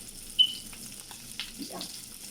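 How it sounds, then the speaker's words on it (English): Kala chana kebabs frying in hot oil in a very hot pan, a faint soft sizzle with a couple of light clinks and brief stirring noises, quiet and close. "pan is very hot, so I can add the oil from side."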